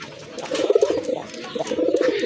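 A domestic male pigeon coos repeatedly at close range, a rolling, throaty series of low warbling notes in two bursts, fairly loud and clear with no talking over it.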